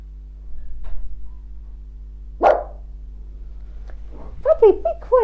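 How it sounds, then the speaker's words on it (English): A pet dog gives a single sharp bark midway, fairly near and moderately loud, over a steady electrical hum, followed by a few quick yelps or whines at the end. "Sorry, that's my dog."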